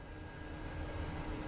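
Steady, even drone of the twin turboprop engines of a DHC-6 Twin Otter in Microsoft Flight Simulator 2024, a continuous broadband engine roar with no talk over it.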